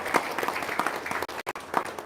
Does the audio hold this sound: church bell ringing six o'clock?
no